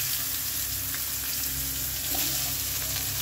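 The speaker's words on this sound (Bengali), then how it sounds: "ফোড়নের জন্য দিচ্ছি শুকনো লঙ্কা, 5 ফোড়ন, তেজপাতা দিয়ে দিলাম পেঁয়াজটা একটু ভেজে নেব।" Onion fries in hot oil with dried red chilli, five-spice and bay leaf in a village-style Bengali crab curry, making a steady, loud, close sizzle that continues without pause and has no talk over it.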